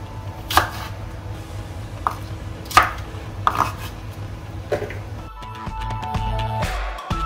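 A knife slices okra in half on a board with about half a dozen separate sharp taps spread irregularly, close, and light clattering at the end, with no talking.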